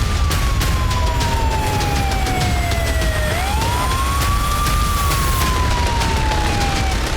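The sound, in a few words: air raid sirens sounding in Moscow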